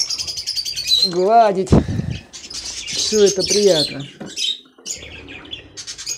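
Budgerigar parrots and their chicks chirp and twitter in a dense, continuous chatter, with squawks and calls close by under a person speaking.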